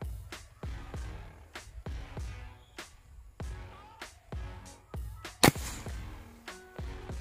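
Nx200 air rifle fired while hunting outdoors, a single sharp crack standing out amid a series of repeated thumping knocks, fairly close and moderately loud, with no talk.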